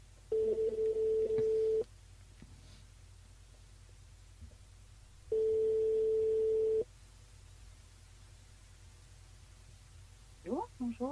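Two long steady ringback tones on a line calling a mobile phone, each lasting about a second and a half, separated by a quiet gap, with faint background murmur and a brief chirpy sound at the end.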